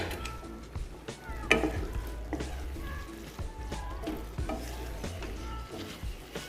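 A pan sizzles gently while a spoon stirs and scrapes as water and raisins go in, with soft irregular clinks and a steady frying hiss close by.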